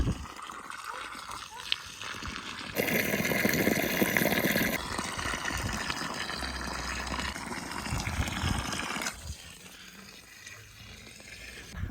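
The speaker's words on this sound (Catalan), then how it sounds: "A veure l'aigua." Irrigation water flowing down a furrow channel in a field while calçots are planted, a steady broadband rush that swells louder midway, with voices talking over it.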